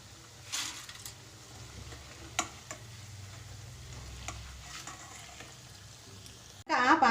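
Poha frying in oil in a pan makes a quiet, steady sizzle broken by occasional clicks and scrapes of stirring, then a sudden louder burst of sizzling at the end.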